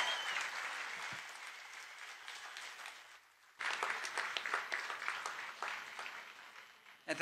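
Applause from the crowd at a Memorial Day program, a moderate round of clapping that dips briefly into near silence, then surges back fuller before fading out.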